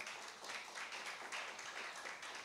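A church congregation at a Bible class applauds with steady, dense clapping that stays even throughout. The sound is quiet and somewhat distant, and no voices are heard.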